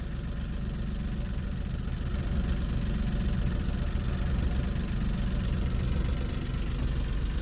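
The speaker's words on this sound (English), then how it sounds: "Engine is running." A Smart Fortwo 451 mild-hybrid (MHD) engine idles in a steady, even low rumble with a faint mechanical patter, continuous and close for the whole stretch, with no talking.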